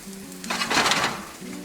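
Banana pancake batter sizzles in a fully heated pan, a short crackling burst that swells and fades over a low background hum, with a light scrape of a utensil in the middle.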